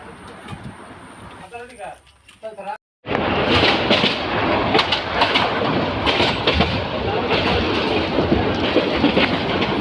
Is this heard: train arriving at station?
yes